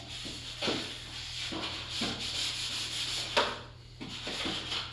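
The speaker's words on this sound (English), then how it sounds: "I'm using 400 grit on this at this point, and I'm just using it to clean up the lines and everything." Panel lines on a model are sanded with 400 grit sandpaper in short, close, rhythmic rubbing strokes. Each stroke gives a soft, steady scratch, and no one talks.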